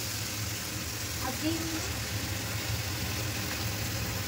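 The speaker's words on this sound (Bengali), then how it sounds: "মশলা কষানো হয়ে গেছে, এখন দিয়ে দিচ্ছে মাটনটা।" Mutton is added to a fried spice masala in a pan and sizzles with a steady, broad hiss throughout, with a low hum underneath and a brief faint voice in the middle.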